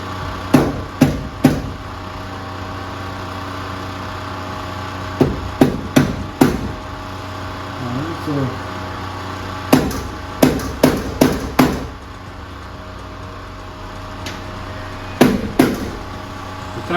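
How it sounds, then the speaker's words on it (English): Bursts of sharp plastic hammer taps fitting door weatherstripping on a 1967 Cadillac Coupe, three to five quick strikes per group with pauses between, close and loud over a low steady hum. "Here's the plastic hammer."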